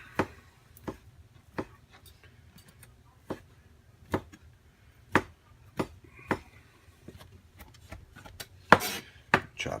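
Pepperoni slices being chopped with a knife on a cutting board, a dozen or so sharp, irregularly spaced knocks, close and clear, ending in a quicker cluster of chops.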